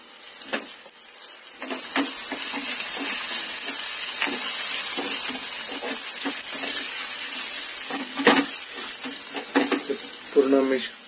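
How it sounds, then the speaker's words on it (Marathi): Spoon stirring asafoetida, turmeric and other spices in a pan for a potato stuffing, with irregular scraping clinks and soft sizzle, close by, under a voice speaking throughout. "पूर्ण मिक्स करून घेऊया चांगलं मसाले"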